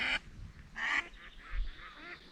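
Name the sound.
duck flying over reeds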